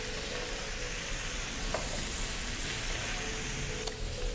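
Steak searing in a pan of butter, a steady broadband sizzle holding at even loudness throughout, with a few faint clicks of a spoon scooping and basting the butter.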